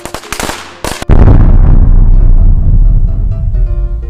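A rapid string of sharp Diwali firecracker bangs in the first second, then a loud, sustained roaring rumble of bursts that gradually fades.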